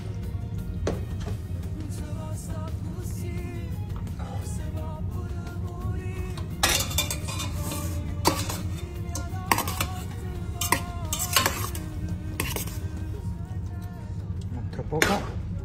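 Spaghetti being mixed with tomato sauce, olives and capers in a pan, with repeated scraping and clanking of utensil on metal over a low background hum, while a person talks at times.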